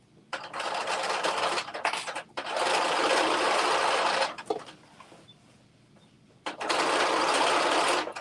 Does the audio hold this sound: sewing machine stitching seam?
yes